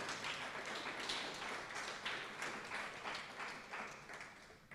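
Applause at a school speech day for Year 1 to Year 4 science attainment prize winners, a soft, steady patter of clapping from a crowd heard at some distance, fading slightly toward the end.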